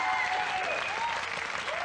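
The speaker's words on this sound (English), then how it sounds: "Oh, applause already." Studio audience of a 1990 late-night television talk show breaks into steady, dense applause, sustained and fairly loud throughout, with no speech over it.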